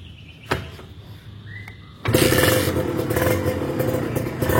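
A Kawasaki Ninja two-stroke motorcycle engine idles with a faint clatter, then fires up into a loud, steady, buzzing rev that holds close by.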